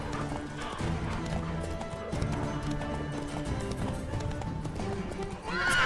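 Horse galloping in The Witcher 3: Wild Hunt, steady rapid hoofbeats running continuously at close range under a dense game soundscape, with a brief whinny-like cry and no speech.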